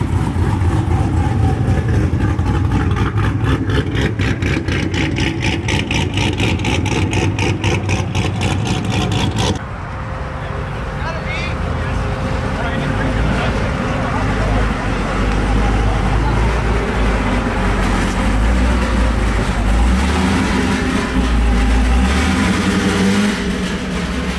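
A cammed Corvette C6 Z06 idles with a steady, choppy rumble at a car meet, amid roadway traffic noise and people talking nearby.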